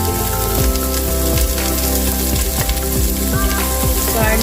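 Onion and ginger fry in a pan for chicken soup, giving a loud, continuous sizzle and crackle up close with occasional stirring scrapes.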